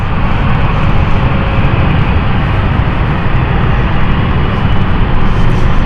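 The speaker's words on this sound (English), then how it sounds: "Next to this aircraft that's just coming in on stand 5." Aircraft taxiing onto stand at London City Airport, a steady loud engine drone and rumble held at an even level throughout, with no talk.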